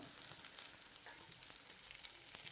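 Washed moringa flowers go into a pan of softened fried onions, giving a dense, even sizzle that stays close and fairly loud throughout.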